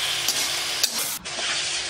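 Onion and tomato sauté in a pan with salt, giving a soft, steady sizzle and hiss with a couple of faint stirring scrapes, no voices.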